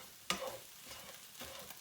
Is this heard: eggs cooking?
yes